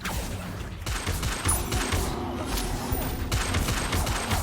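Rapid bursts of magical spellcasting from Hogwarts Legacy, with disarming, levitation, summoning and fire spells fired in quick succession during a duel, crackling and whooshing loudly and densely for the whole stretch.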